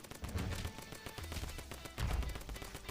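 Rapid bursts of video game gunfire chatter steadily, with punchy low thumps recurring through the short stretch, while shooting a Lego Titan with a banana gun.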